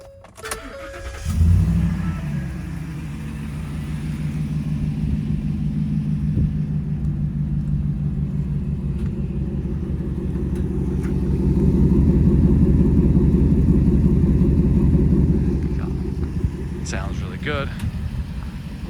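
A 2014 Ford F150 Limited with the 6.2 engine starts and settles into a loud, steady, deep idle rumble close by, swelling slightly midway, with no talk over it.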